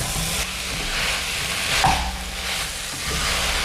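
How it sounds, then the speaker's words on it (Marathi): Mixed vegetables sautéed over high heat in a pan, a steady broadband sizzle with occasional stirring scrapes, close and moderately loud, no talking. "आता या भाज्या छान अशा हाय हीट वरती आपल्याला यामध्ये परतून घ्यायच्या आहेत"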